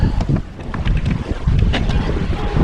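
Strong wind in Pensacola buffeting the microphone in loud, continuous gusts, with a rough roar that fills the whole clip.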